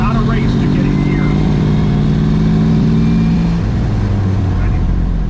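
A Brockway semi truck engine revs loud and close while driving, a sustained throaty roar with a falling pitch as the throttle eases off.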